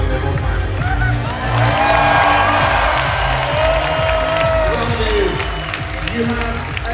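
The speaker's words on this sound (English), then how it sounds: "You have a stadium of people here in the KB Hall cheering you on, cheering on your victory." A large crowd in an arena hall at a GeoGuessr championship final cheers and applauds, with a dense roar of clapping and whoops under a talking voice, loud and continuous throughout.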